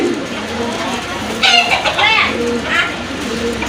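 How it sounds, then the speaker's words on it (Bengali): Pair of fantail pigeons giving soft cooing and clucking calls up close, with a livelier burst in the middle and a light steady background hum. "এটা হচ্ছে আপনার ফ্যান্টেল এক জোড়া কবুতর"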